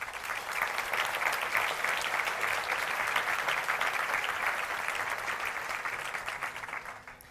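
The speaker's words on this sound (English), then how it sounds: "Please give them a round of applause." Sustained audience applause at a creativity forum, a dense steady wash of many hands clapping at full strength for about seven seconds before tapering off at the very end.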